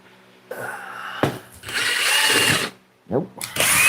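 A power drill boring into a drywall wall, several short bursts of close, loud whirring separated by pauses.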